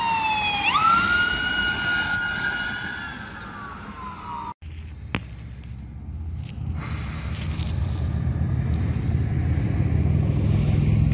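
An ambulance siren wails nearby at a car lot, rising then holding a high tone before cutting off abruptly, followed by the low rumble of passing traffic.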